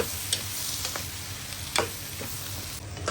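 Food sizzles steadily in a hot pan, with a few sharp clinks and scrapes as it is stirred.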